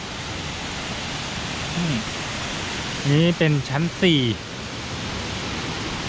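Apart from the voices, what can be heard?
Krueng Krawia waterfall rushing water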